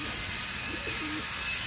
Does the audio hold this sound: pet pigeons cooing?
yes